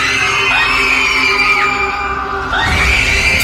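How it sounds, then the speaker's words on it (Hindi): A chorus of horrifying, ghostly screams rises together, loud and sustained with wavering pitch for several seconds, swelling again near the end. "उन सब ने एक साथ एक भयानक सी चीख मारी"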